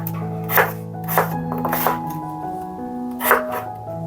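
A knife thuds onto a cutting board while slicing potatoes, several distinct chops spaced irregularly and close by over a steady background hum with faint music-like tones.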